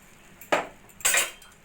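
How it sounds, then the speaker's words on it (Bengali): Grated coconut and jaggery go into a wok for coconut naru, with two short metallic clinks and scrapes of a utensil against the pan and no talk. "এবার কড়াইয়ের মধ্যে দিয়ে দেবো আমি কুড়িয়ে নেওয়া নারকেলগুলো"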